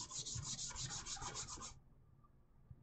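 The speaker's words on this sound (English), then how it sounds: "So this pass with the sanding block here, this is getting it nice and smooth." A sanding block rubs back and forth across the surface of a plastic MG Jesta mecha model kit in a quick, steady run of close scratchy strokes, then stops abruptly, leaving quiet room tone with no talking.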